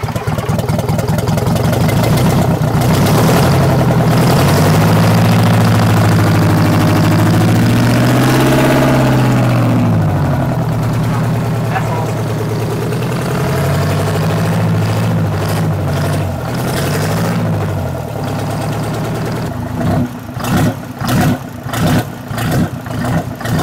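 Kenworth truck with a Detroit 8V71 diesel, parked seven years, cranks, catches and idles loudly up close, revving in swells before a rhythmic chugging starter-like pulse near the end.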